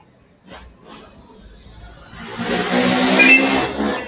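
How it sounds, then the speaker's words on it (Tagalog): A noisy jeepney passes along a city street near an ukay-ukay secondhand clothing shop, its broadband rumble swelling loud over the last two seconds after quieter street sounds and faint voices. "Ingay naman itong jeep eh,"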